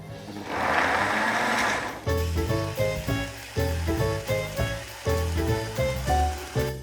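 A blender mixes zucchini pesto, a steady whirring roar at first, then several short pulsed bursts of motor and churning in an uneven rhythm.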